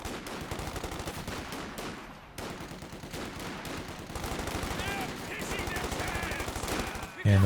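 Rapid bursts of machine gun fire in the World War II strategy game Company of Heroes 2, with sustained rattling volleys broken by a short pause and ending on a heavier blast, heard amid other battle noise.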